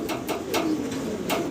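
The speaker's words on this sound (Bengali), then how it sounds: "ফিলব্যাক কবুতর দেখাচ্ছি" Pigeons at a farm give soft, repeated cooing calls close by, several short throaty coos in a loose rhythm over a quiet background.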